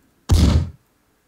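An artillery shell fires in a video game during a barrage: one heavy, close, booming thud lasting about half a second, followed by silence, with no talking.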